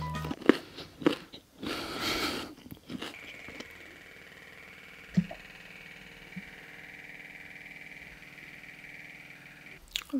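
Carrots crunched and chewed close to the mic for ASMR eating: loud bites in the first three seconds, then quieter chewing over a faint steady hum.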